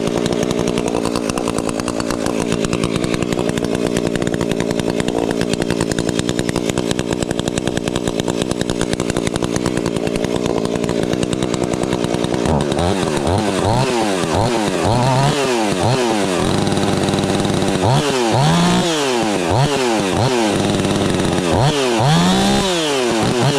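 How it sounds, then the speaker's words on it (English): A gas chainsaw idles and revs loudly up close, then bites into wood from about midway, its pitch dropping and rising in repeated cutting strokes that continue to the end. "Super good cutting saw"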